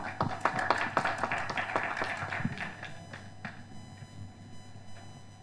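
A small audience at an Indonesian webinar on millennial farming claps, a brisk burst of overlapping hand claps that thins out and fades to a few scattered claps over a low hum.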